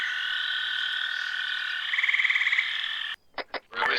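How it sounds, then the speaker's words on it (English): Loud insects in a video game drone in a steady, high buzzing chorus with a brief pulsing trill partway through, then cut off abruptly, leaving a few short sharp sounds. "these friggin' insects. I hate them."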